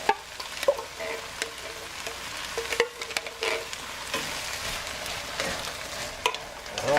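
Canned ground peeled tomatoes go into a pan of softened, sizzling vegetables for an eggplant chili, giving continuous frying sizzle with wet stirring and scraping clatters at irregular moments, no voices.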